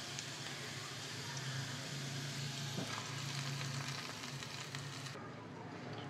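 Hot tempering of oil and fried chillies poured into sabudana, a steady faint sizzle running without a break, with no talk.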